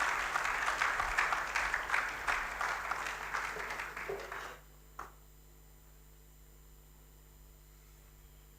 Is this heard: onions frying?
no